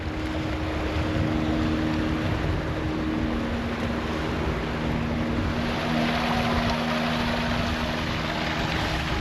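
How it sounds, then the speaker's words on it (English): Steady broadband rush of water flowing over snowy rocks with a constant low tonal hum underneath, continuous and fairly close, no voices. "even though there's water flowing over the rocks."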